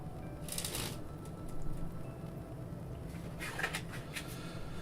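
Playing cards are shuffled during sleight-of-hand practice, two quick riffling bursts of crisp fluttering clicks separated by quieter handling, close but soft, with no talk.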